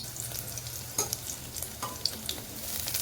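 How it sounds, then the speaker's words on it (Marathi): Crushed garlic sizzles steadily in hot oil with curry leaves for a pumpkin sambar tempering, with a few sharp spatula scrapes and pops over the constant frying hiss; no voices. "लसूण जरासा परतून घ्यायचा"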